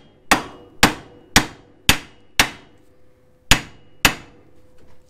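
Hammer strikes on a steering part of a 2020 Polaris RZR Pro XP to pop loose a ball joint: seven sharp, ringing metallic whacks at a steady pace with a short pause before the last two, close and loud with no talk.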